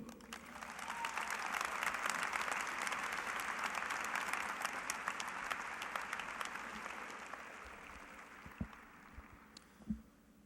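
A commencement audience applauds to welcome an alumnus speaker at a winter graduation ceremony. The dense, sustained clapping swells early, then slowly thins and fades, with a couple of louder isolated claps near the end.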